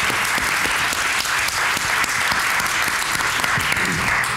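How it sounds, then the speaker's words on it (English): Sustained audience applause fills a women-in-comedy panel event, a dense, steady wash of clapping from a full room greeting comedian Cathy, running evenly throughout with no voices above it. "that deserves applause"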